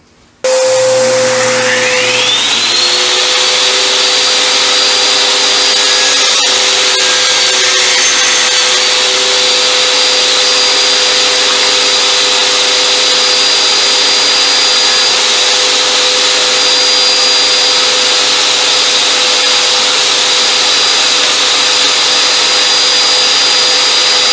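A table saw fitted with a stacked dado blade spins up with a rising whine and then runs loud and steady as it cuts lap joints in wood, with a constant high tone over the motor roar and no talk.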